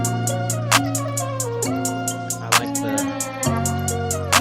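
A hi-hat sample ticks in a steady rapid pattern with slight reverb inside an FL Studio trap beat, over sustained melodic synths and periodic cymbal crashes, with no talking.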